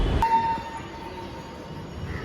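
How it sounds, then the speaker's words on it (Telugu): A metro train arrives at a station in India, with a brief horn-like tone and a faint mechanical whine over low rumbling, moderately distant and without speech. "ఇంకా మెట్రో కూడా వచ్చేసింది"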